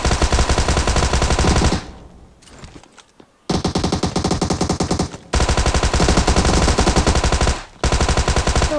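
Thompson submachine gun fire in PUBG Mobile on the Erangel map: loud, dense sustained automatic bursts filling most of the clip, broken by a short quieter lull and two brief gaps between sprays.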